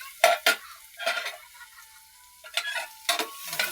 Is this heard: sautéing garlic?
yes